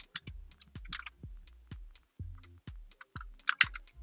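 Quick, uneven clicks of fingers typing on a computer keyboard, with short bursts of keystrokes and brief pauses. The clicks sound close and fairly quiet, with no talking.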